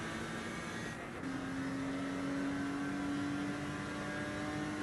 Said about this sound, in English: We're turning the engine noise down a bit.